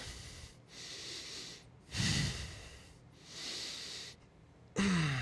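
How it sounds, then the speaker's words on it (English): During an intermediate lower-body and core workout in tabletop position, a person takes loud, deep breaths through the nose and mouth, about four slow inhale-exhale cycles, close and alone. "Deep breaths."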